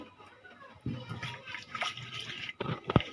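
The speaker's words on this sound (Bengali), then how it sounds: "লেবুগুলি চিপে দিচ্ছি" Fresh lemons are squeezed by hand, giving soft wet squelches and juice dripping into a bowl of cold water, close and fairly quiet, ending in a few sharper splashes.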